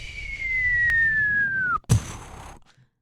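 A voice imitates an atom bomb exploding: a long descending whistle glides down over about two seconds, then a sharp boom bursts out and fades into a brief rumbling tail, heard alone and fairly close.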